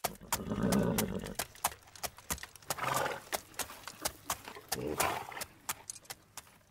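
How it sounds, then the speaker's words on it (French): A horse walks slowly while being led by the bridle, its hooves sounding steady, close clip-clops in an uneven rhythm of regular sharp knocks, with a low snort or whinny-like breath early on. "Depuis des jours, Cyrus marchait, tirant son cheval par la bride, épuisé"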